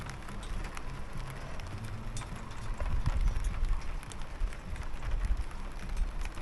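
Rain shower coming down outdoors on a motorhome, a steady broadband patter that swells louder midway and keeps going with no talk over it.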